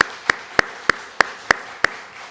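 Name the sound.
church congregation applause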